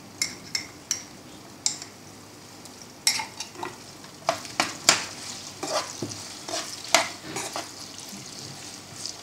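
Vegetable pieces with ginger garlic paste sizzle gently in a pan for veg biryani, broken by sharp irregular scrapes and clinks of a spoon stirring against the metal, close up and with no talking.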